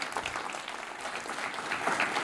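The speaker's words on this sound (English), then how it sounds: "Let's give him a big round of applause." Faint applause from an audience at a live startup talk, a soft steady patter of clapping heard from a distance without anyone speaking.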